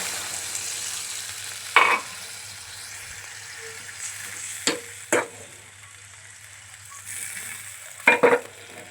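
A Bengali vegetable curry being sautéed in a pan sizzles steadily at a moderate level, with a few sharp stirring clatters and short bursts of fry noise as water goes in.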